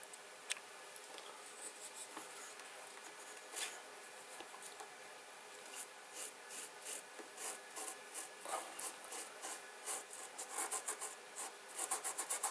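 Pigment is rubbed by hand into fine kolrosing cuts in a wood surface, a close, dry scrubbing that starts sparse and settles into quick, steady back-and-forth strokes, soft and alone.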